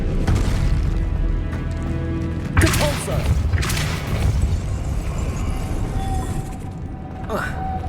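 Heavy booming impacts from a Depulso spell in Hogwarts Legacy, with several loud thuds and crashes bursting out of a continuous rumbling game soundscape, while a voice talks throughout.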